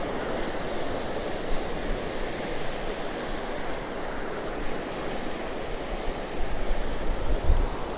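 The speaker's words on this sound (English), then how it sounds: "But these little waves that are rolling in is ideal to get bass on the back of them." Small sea waves roll in on Cromer beach under a rough, blustery wind, making a constant broad wash of surf and wind noise. Gentle swells rise near the end, and nobody speaks.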